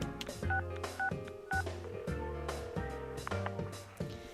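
Cell phone keypad dialing tones in Persona 4 Arena, a quick series of short electronic beeps in a sequence over soft background music.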